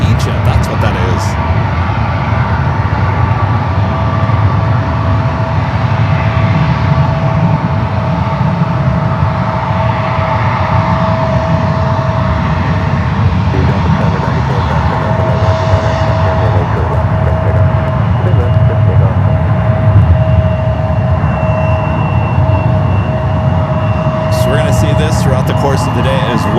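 An EgyptAir airliner's jet engines roar at San Francisco airport, a continuous, loud, steady rumble with a whining tone that fills the whole stretch without a break.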